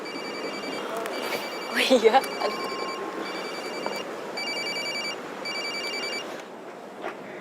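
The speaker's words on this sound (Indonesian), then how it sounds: "Telepon tuh, angkat." A telephone rings in repeated bursts of bright electronic trilling, fairly close, as a woman briefly answers with a short exclamation partway through.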